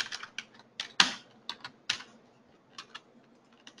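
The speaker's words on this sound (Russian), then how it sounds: "И давайте напечатаем" Keys clatter on a computer keyboard as a web address is typed into a Word address field, a quick irregular run of close, crisp taps with one sharper stroke and short pauses between bursts.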